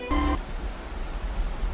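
Steady video game rain patters on a surface throughout, with a brief low synthetic hum near the start.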